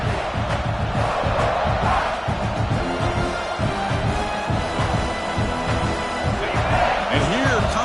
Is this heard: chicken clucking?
no